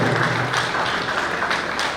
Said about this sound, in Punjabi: ਦੀਪ ਲਈ ਤਾੜੀਆਂ ਜ਼ੋਰਦਾਰ ਮਾਰਦੇ ਜਦੋਂ ਦੀ ਆ ਜਾਵੇ।